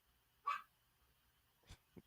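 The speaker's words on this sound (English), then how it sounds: "Yeah, because he just barked." A dog barks indoors at a distance: one sharp bark, then after a pause two quieter, shorter barks, against a faint background hum with no talking.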